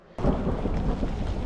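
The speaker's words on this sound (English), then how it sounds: "then there was thunder, which you'll hear coming up" Thunder rumbles loudly during a mountain bike cross-country race at Jungle Habitat, bursting in abruptly and rolling on as a dense low roar with rain-like hiss, no voices.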